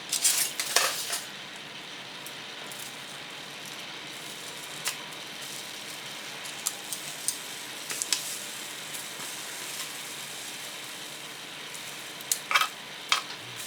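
Lamb ribs flipped on a foil-covered baking tray, with scattered light clinks and scrapes of a utensil against the tray over a faint, steady sizzle.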